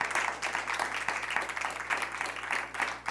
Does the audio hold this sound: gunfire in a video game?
no